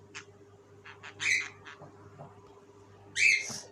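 Two shrill parrot squawks a couple of seconds apart, with softer chirps and calls between them, fairly faint against a steady low hum.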